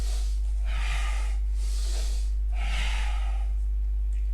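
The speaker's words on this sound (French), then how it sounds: "J'inspire, j'expire." Slow, rhythmic breathing during a yoga session: three long audible breaths in and out, each a soft airy rush through the nose and mouth, close and clear with no talking.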